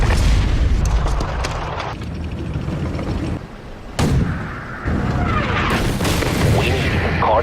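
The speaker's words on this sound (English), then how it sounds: "We've got artillery active in the sector as they move." Artillery fire in the tank combat video game Armored Warfare: heavy, booming blasts mixed with gunfire, with a sharp impact near the start, a dip in the barrage, then fresh loud explosions and rumbling rounds.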